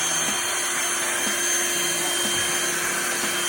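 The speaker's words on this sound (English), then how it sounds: "Ryobi 18 volts hand vacuum." A Ryobi 18V handheld vacuum cleaner runs with a steady, fairly quiet motor whine and airy suction hiss, holding one even pitch near the mic, with faint rhythmic ticks under it and no speech.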